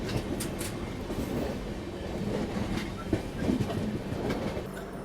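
Train cars rumble along the rails through interior Madhya Pradesh after leaving Maksi Junction, with a continuous loud roar, rhythmic clickety-clack of wheels over joints and faint squeals, heard from inside the carriage.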